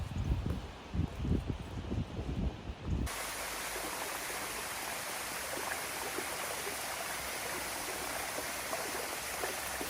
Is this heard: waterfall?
yes